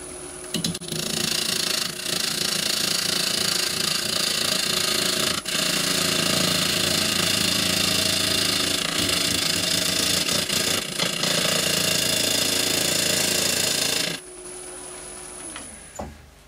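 A wood lathe hums steadily at a low, even speed of about 500 rpm, with faint scraping of a tool on a wooden bowl blank, then winds down near the end.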